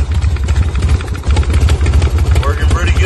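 A Harley FXR motorcycle engine with an open belt-drive primary idles low and steady while warming up, a throbbing rumble with a slightly uneven beat, heard up close without anyone talking.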